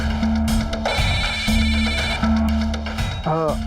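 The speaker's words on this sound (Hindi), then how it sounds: "मुझे एक जरूरी फोन आ रहा है" A phone ringtone sounds over background music in a home scene: a repeating steady electronic tone with short pauses, fairly loud and close, ending with a brief warbling chirp.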